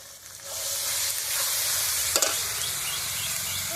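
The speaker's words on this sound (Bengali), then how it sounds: "আগে ভালো করে তেলের সঙ্গে আদা রসুনটাকে ভেজে নেব" Ginger and garlic paste fries in oil for chicken biryani with a loud, steady sizzle that runs close and unbroken, plus one brief stir partway through and no talk.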